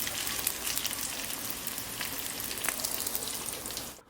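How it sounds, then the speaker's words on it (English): Bacon sizzles and crackles steadily in a pan, a dense, close hiss with scattered pops that cuts off abruptly just before the end. "our bacon's cooking away lovely"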